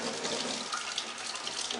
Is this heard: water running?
yes